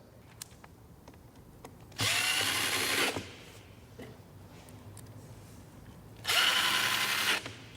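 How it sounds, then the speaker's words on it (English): A power drill drives screws down into plywood in two separate bursts of roughly a second each, with a quiet workshop pause between them. "we're going to screw it down just to hold it in place"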